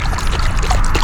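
Water pours steadily from a running tap in a dense, continuous splashing rush, close and loud with no talk.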